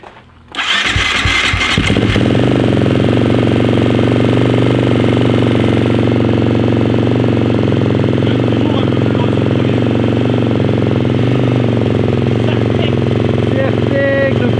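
A motorcycle fitted with a brand-new piston fires up for its first start and settles into a loud, steady, rough idle close by that runs on unbroken.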